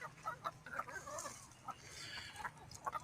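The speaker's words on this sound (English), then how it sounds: "chickens are going to get impatient as soon as I come across here. Here they come." Chickens cluck and fuss in short, scattered calls close by on bare ground, fairly quiet, with some rustling between them.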